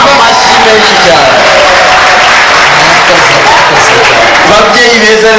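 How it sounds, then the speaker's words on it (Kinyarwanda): A wedding crowd applauds loudly and continuously, with dense overlapping clapping and voices mixed into the din throughout. "amashyi menshi cyane"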